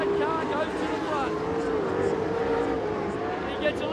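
Sprint cars race at Perth Motorplex, engines droning and rising in pitch as they come around the turn, with a commentator talking over the steady roar of the field.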